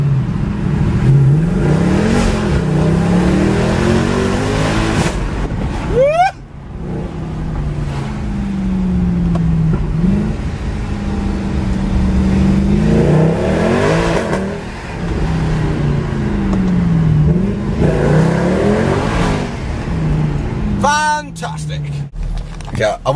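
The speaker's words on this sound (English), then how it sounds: "Let's hear some AMG power, yeah?" Mercedes AMG car engine revving hard and accelerating through several surging pulls and gear changes, loud and close from inside the car, with talking heard over it.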